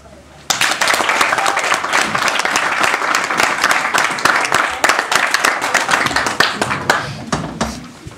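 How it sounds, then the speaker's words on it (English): Audience applause breaks out after a student's prepared speech at a regional Māori speech competition, a dense, steady clapping crowd starting abruptly and holding loud throughout, with a few voices mixed in. "So a round of applause for her."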